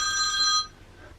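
A telephone ringing indoors at a steady moderate level, the electronic tone sounding for a little over half a second before cutting off into quiet room background.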